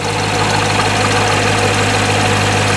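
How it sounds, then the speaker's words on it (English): A loud, steady idle from a C7 Corvette engine with a Magnuson TVS2650 supercharger, a low, even rumble and slight mechanical knock, close by and unbroken. "Sounds good, idling nicely."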